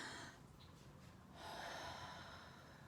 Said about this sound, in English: Another deep breath in.